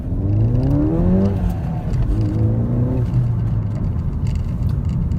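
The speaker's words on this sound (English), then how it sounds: "We'll just pull out of this junction and then accelerate up to 30." A Ford Fiesta ST pulls away from a junction and accelerates up to 30 mph, its engine note rising steadily through a gear change, loud, close and continuous with no talking.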